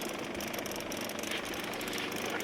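A boat engine runs steadily while pike fishing on Lake Mendota in summer, a faint, even low drone that holds without a break.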